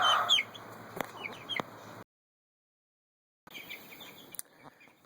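Young meat chickens around three weeks old, still growing in their feathers, cluck and chirp close by in short bursts, then a silent gap before more clucking resumes.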